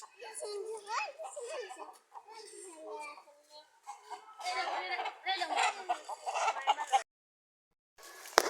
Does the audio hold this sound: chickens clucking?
yes